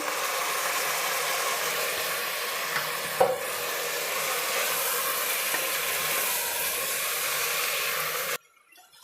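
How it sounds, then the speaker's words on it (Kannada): Washed rice frying in oil in a pan, a steady, fairly loud sizzle with stirring scrapes and one sharp knock partway through, cutting off abruptly near the end. "ಈಗ ಒಂದು ಐದು ನಿಮಿಷ ಇದೇ ಥರ ಫ್ರೈ ಮಾಡಾಗಿದೆ ಎಣ್ಣೆಯಲ್ಲಿ ಅಕ್ಕಿನ"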